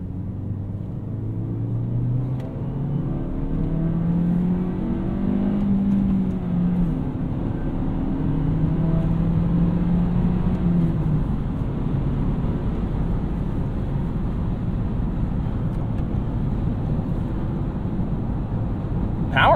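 A 2019 Toyota Corolla XSE hatchback with a manual gearbox pulls hard up a highway on-ramp. The engine note climbs steadily in pitch through the gear under a loud, constant road and wind roar heard from inside the cabin.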